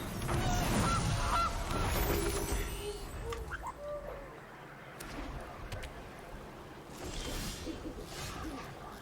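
Honking goose cry from a goose card played in MTG Arena, a short digital honk standing out briefly over quiet game ambience, with a voice talking faintly nearby.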